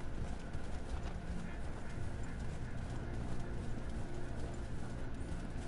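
Horse hooves galloping in Red Dead Redemption II, a steady, continuous rumbling clip-clop that runs without a break under ambient game noise, moderately loud throughout.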